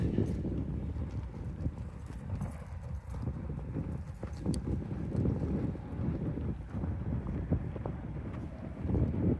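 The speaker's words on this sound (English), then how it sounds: "It's very windy." Gusty wind buffets the microphone outdoors on a disc golf course, producing a rough, low rumble with irregular thumps throughout.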